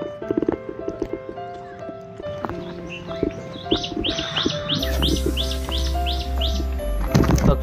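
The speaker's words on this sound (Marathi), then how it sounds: "पक्ष्यांच्या ओरडण्याचा छान असा जबरदस्त सीन दिसतोय त्या खाली" Birds call and chirp on a mountain trek to Bhairavgad fort near Moroshi in Malshej Ghat, Maharashtra, with scattered nearby tweets at first, then a run of repeated bright chirps over a low steady rumble.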